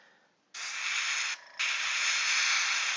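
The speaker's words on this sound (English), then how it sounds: "spray some black there" Black primer hisses from a spray can onto a miniature in two close, loud, steady bursts separated by a brief dip, after a faint lead-in.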